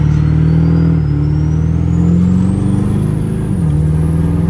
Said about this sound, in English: Try to give you a good shot of how this turbo sounds